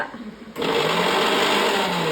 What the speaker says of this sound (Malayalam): മിക്സി ഇട്ടമ്മ ഞങ്ങളെ വാടപ്പിച്ചു മിക്സി ഓൺ